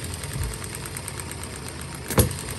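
A hit-and-miss gas engine runs quietly on its own, with a low steady chugging and one sharper firing thump near the end. No voices are present.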